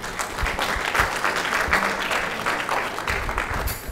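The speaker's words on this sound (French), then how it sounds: "Qui m'a aidé, Madame Sylvie, je voulais que vous l'applaudiez" An audience at a cultural event breaks into sustained, dense clapping that stays loud and even throughout, with faint murmurs beneath.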